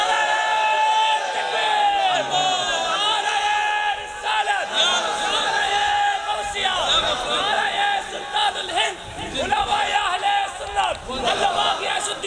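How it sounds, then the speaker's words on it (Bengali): Large crowd at a religious sermon gathering raising a loud collective chant and shouts, swelling in waves over several seconds with chatter mixed in. "একটা স্লোগান লাগান"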